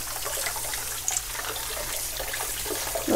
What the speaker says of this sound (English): we're just gonna rinse these. Rinse them until they don't feel slimy anymore